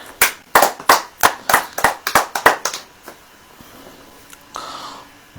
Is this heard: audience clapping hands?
yes